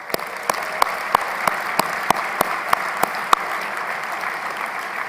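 Evenly spaced claps ring out over a steady hiss at an official gathering with state officials present, a light, rhythmic patter rather than a full roaring ovation.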